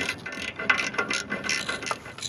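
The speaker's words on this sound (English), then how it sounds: "I'm going to be using this universal joint extension for this tricky bolt hidden behind the catalytic converter." A ratchet on a universal joint extension loosening a transmission pan bolt behind a catalytic converter, giving a quick run of close, crisp clicking pawl ticks in uneven bursts.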